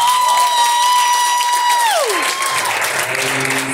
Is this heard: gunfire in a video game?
no